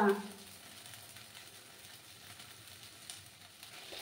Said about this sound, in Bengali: আরও কিছুক্ষণ আমি এইভাবে নাড়াচাড়া করতে থাকবো।